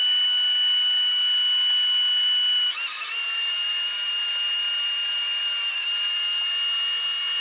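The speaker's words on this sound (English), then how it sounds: "So let me get these drilled out here." Small drill boring tiny holes in a 3D printed distributor cap for a V8 engine model, a steady high-pitched whine held throughout with a brief dip in pitch as the bit bites, close and loud.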